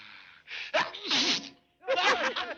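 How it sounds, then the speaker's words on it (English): A character's sneezes, two sharp bursts each led by a gasping intake of breath, close and loud against silence. "sneezing!"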